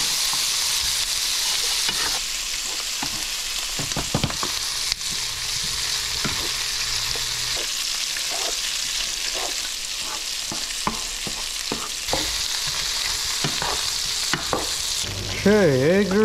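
Eggs fry in an oiled pan in a Roblox cooking scene, a loud continuous sizzle with scattered clicks and stirring sounds throughout, ending with a brief different tone.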